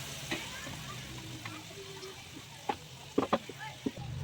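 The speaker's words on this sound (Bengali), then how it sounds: "মশলাগুলো আমি একটু ভেজে নেব" Spices for palak paneer fry quietly in a pan with a soft, steady sizzle, broken by a few scrapes and taps of a spoon stirring them, mostly toward the end; no one speaks.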